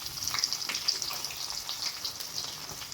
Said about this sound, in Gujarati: ડુંગળી ઉમેર્યા પછી આપણે ડુંગળીને બરાબર સાંતળી લઈશું